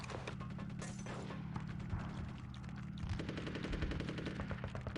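Rapid bursts of game gunfire in Conker's Bad Fur Day, aimed at a lock, rattle continuously as dense automatic fire with mechanical clatter over background game music.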